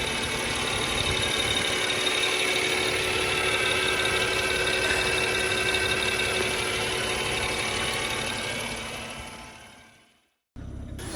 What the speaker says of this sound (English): It is a 3-liter twin turbocharged inline 6 engine. It is buttery smooth.